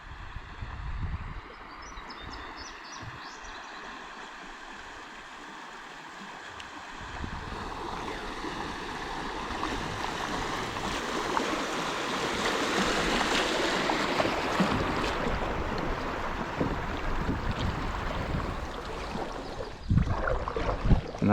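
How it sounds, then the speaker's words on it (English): Fast-moving water on the upper Ouachita River rushing past a rock-lined bank, a broad steady wash that starts quieter and swells louder and closer midway, with a bird faintly audible early on. "Got some fast moving water up here"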